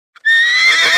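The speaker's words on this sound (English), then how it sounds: "It's a horse." A horse lets out a loud, close neigh, a high shrill whinny that starts after a tiny click and carries on bright and sustained to the end.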